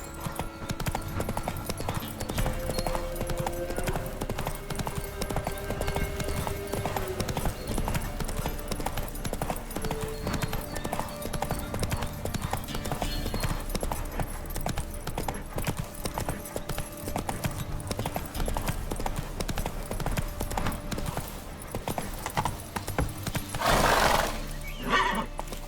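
In The Witcher 3, Geralt's horse Roach gallops with steady, rapid clip-clopping hooves throughout, and neighs and whinnies are heard over the continuous rhythm of the run.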